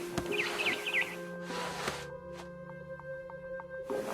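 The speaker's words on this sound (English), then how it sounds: "Then I heard chirping outside my window. It was a barn swallow going back to her nest." In the video game What Remains of Edith Finch, brief high chirps from a barn swallow near the start, then a steady electronic hum and faint rhythmic ticking carry through the rest.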